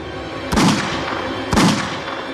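Two loud sharp gunshots ring out about a second apart, each cracking then echoing briefly against a low background rumble.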